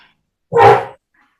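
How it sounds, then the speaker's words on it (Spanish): A single dog bark sounds from outside, fairly loud and short, with silence before and after. "se ve que debe haber un perro afuera"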